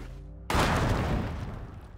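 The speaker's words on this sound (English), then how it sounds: "Not bad, a satisfying explosion" A sudden loud blast of a single stick of dynamite in the game Astroneer cuts in after a low hum, a single booming explosion whose rumble decays slowly over the next second and a half.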